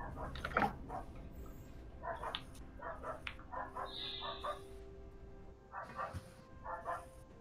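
Dog barking in short, scattered yips and barks against a busy, noisy background, some at middling distance, with a faint whine-like tone midway.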